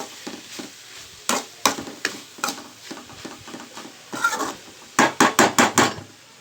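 Spoon stirring through dried fish curry in a pan after water goes in, a run of sharp clattering scrapes and knocks, the last several coming as a quick, louder series of strokes.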